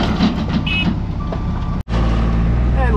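An excavation machine at a new home build site reverses back and forth, its backup alarm beeping in a steady repeating pattern over a continuous diesel engine rumble, fairly close and loud.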